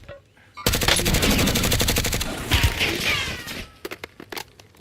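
Airsoft gunfire in a skirmish, a loud close burst of rapid automatic shots lasting a couple of seconds, followed by scattered single pops and faint voices in the background.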